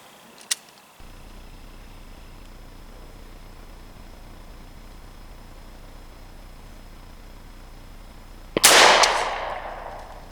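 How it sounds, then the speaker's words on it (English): A Stevens 301 Turkey .410 shotgun fires one sharp blast toward a 60-yard target, loud and close, with a brief decaying tail after the shot. A fainter click or pop sounds earlier, over steady background hiss. "the Stevens 301 turkey, 410 shotgun,"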